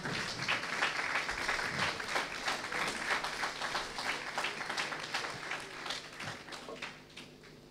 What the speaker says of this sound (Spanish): ¿Cuántos le dan un fuerte aplauso a este ministerio de adoración?